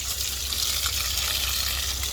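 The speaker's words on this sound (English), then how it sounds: "here I am in the peak of the heat watering them" A hose sprays water steadily over garden plants on a hot summer day, a continuous loud hissing gush with no pauses.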